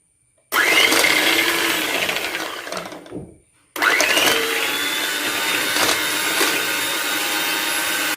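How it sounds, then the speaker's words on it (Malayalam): Electric hand beater whipping cream, a loud steady motor whine that runs, winds down and stops briefly, then starts up again at full speed and keeps going. "ഞാൻ എളുപ്പത്തിന് വേണ്ടിയിട്ട് ബീറ്റർ ഉപയോഗിച്ചതേ ഉള്ളൂ"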